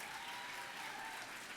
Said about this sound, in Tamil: ஆசினிக்கு நல்லா கைத்தட்டல் கொடுத்துருங்க எல்லா சார்பா.